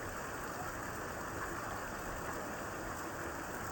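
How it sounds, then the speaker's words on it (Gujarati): Heavy monsoon rain pours down on farmland while water runs along the road, making a dense, steady, close roar of falling drops with no pauses. "તો ખેડૂત મિત્રો જોઈ શકો છો હજી વરસાદ શરૂ છે ને પુષ્કળ પાણી ચાલી રહ્યું છે"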